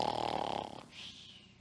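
Kids' voices imitate snoring together, a rough, buzzing drawn-out snore that fades into a softer, breathy tail, close and fairly loud.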